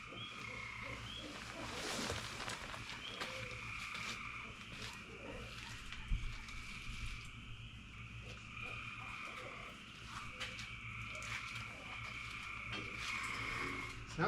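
Frogs croak nearby at night outdoors, a dense repeating chorus of calls running throughout over a steady background hum, with one closer thump partway through.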